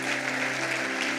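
A church congregation at a seminar applauds, a dense, continuous wash of clapping with a steady low hum underneath, loud and unbroken through the short stretch.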